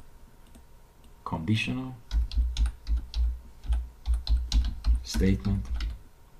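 Close, rhythmic typing on a computer keyboard while writing an Excel VBA macro, crisp clicking keystrokes in steady bursts, with a person speaking briefly at the start.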